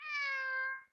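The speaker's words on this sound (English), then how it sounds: "cat wants to say something" A single house cat gives one clear, drawn-out meow, close and fairly loud, lasting about a second with no talk over it.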